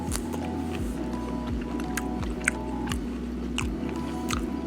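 Someone chews a bite of medium rare porterhouse steak, reverse seared on a kettle grill, in close, moist, steady bites over a continuous low background hum.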